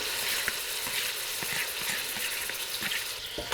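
Drained, pre-boiled eggplant frying in melted butter: a dense, even sizzle close by throughout, with faint ticks of stirring under it and no talking.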